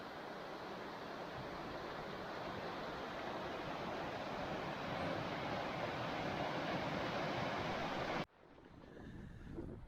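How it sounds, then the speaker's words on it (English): A farm creek swollen after heavy rain gives a steady, broad rushing roar of rolling water, moderately loud and even, before cutting to near quiet at the end. "The creek is rolling."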